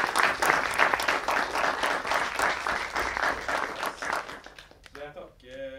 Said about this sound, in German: Gi en applaus.